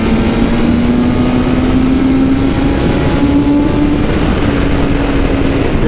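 A 2020 BMW S1000RR M motorcycle engine drones loudly and steadily while riding, its pitch climbing slowly under heavy wind rush, with no talking.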